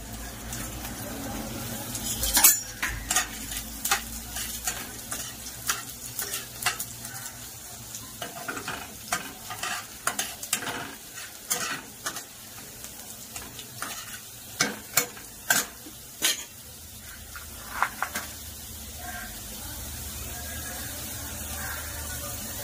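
Garlic fries in oil in a kadhai wok for veg noodles, producing a continuous hissing sizzle punctuated by sharp, repeated clicks and scrapes of a stirring spatula, close and fairly loud.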